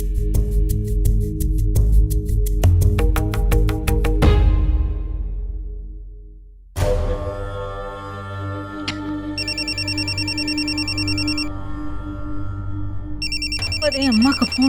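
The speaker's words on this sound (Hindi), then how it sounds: "अरे अम्मा का फोन है।" A telephone rings indoors in a domestic scene. A melodic ringtone plays, breaks off briefly, then resumes with repeated electronic trilling tones while music runs underneath.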